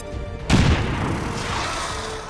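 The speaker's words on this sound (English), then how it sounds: "Utilize grenade. Grenade thrown." Grenade explosion in Star Wars XCOM 2: a sudden heavy boom strikes after a brief quiet lead-in, then rumbles and decays into a lingering tail.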